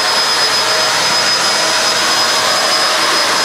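A Kenmore vacuum cleaner makes regular-speed passes over hair, producing a loud, steady, close whooshing motor roar with a constant high whine and no pauses.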